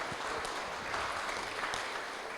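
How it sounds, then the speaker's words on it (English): An audience at a public inquiry hall in Tolaga Bay gives a round of applause, a dense, even wash of clapping held steady for the whole moment at moderate distance. "Round of applause, please"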